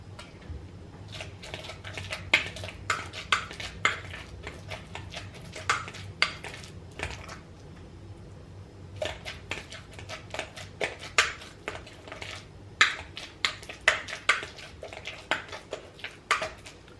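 Banana mashed with a fork in a bowl, giving repeated clinking and scraping taps of metal on the bowl in irregular bursts, close and fairly loud, with no talking.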